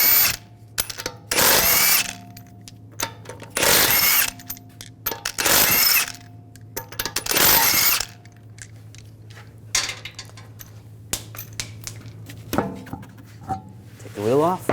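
A power impact tool with a 19mm socket removes the lug nuts from a front wheel of a 2017-2022 Honda CR-V, firing in several loud, close bursts of whirring and rattling with quieter pauses and clinks between them.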